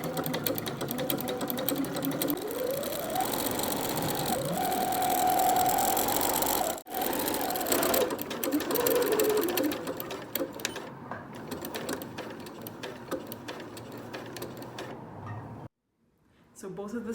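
A sewing machine runs a stretch stitch along the seams of a headwrap, humming steadily close by with a rising whir midway, then slowing and stopping briefly near the end.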